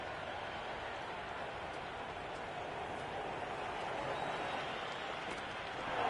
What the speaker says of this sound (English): It is the most enthusiastic crowd you could ever see right now. There's a buzz, a real buzz coming from the stands.